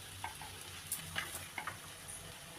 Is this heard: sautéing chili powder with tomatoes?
yes